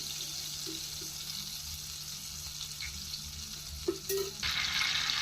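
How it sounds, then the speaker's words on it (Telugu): Whole garam masala sizzles in hot butter and oil, a steady close frying hiss that flares louder and brighter near the end, with a few small clinks along the way. "ఆయిల్ బటర్ హీట్ ఎక్కింది కదా, కొంచెం హోల్ గరం మసాలాలు కొద్దిగా వేసుకున్నాం"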